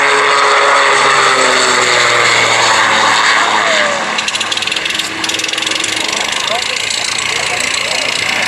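A steady autogyro engine drones loudly in flight at an airshow, a continuous broadband roar with a faint propeller hum, changing slightly partway through.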